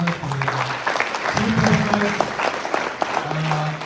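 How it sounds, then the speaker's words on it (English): A convention audience gives the event organizers a round of applause, with loud, steady clapping from the crowd while a voice speaks over it. "I want us to really give a round of applause for the organizers"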